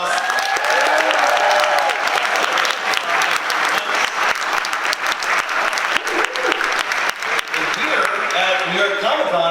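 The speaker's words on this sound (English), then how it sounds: "Give them a big round of applause." A large audience at a New York Comic-Con convention panel claps and cheers in dense, sustained applause that carries steadily from start to finish.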